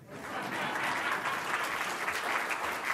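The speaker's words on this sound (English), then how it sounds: "You could clap to that" Steady applause from an audience at a Brooklyn Borough President's speaking event, a moderately distant, even roar of clapping sustained for a few seconds.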